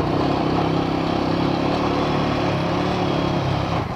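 A motorcycle engine drones loud and close while the bike is ridden on a mountain road in the Himalayas, a steady mid-pitched hum holding throughout and easing only at the very end.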